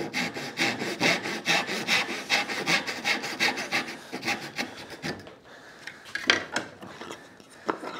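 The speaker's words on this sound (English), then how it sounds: "the better you are sawing, the closer you can get to this line" A hand saw cuts into wood for dovetail joints with a fast, even rasping rhythm of close, loud strokes, then slows to a few scattered rubbing and tapping sounds.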